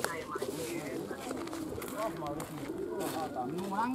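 Pigeons coo in a loft or training ground, repeated soft throaty calls layered close by, with people talking over them throughout.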